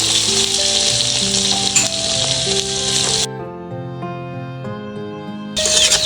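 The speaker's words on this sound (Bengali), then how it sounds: "সব মশলা ভালোভাবে বেজে নেব" Ginger-garlic paste, cumin, coriander, chili and turmeric frying in a pan, a broad hissing sizzle heard at the start and end under prominent background music that plays alone in the middle.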